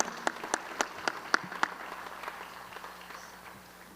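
A small audience at a school district awards ceremony applauds an honoree with several crisp, close claps over a softer spread of clapping, tapering off into a low room hum.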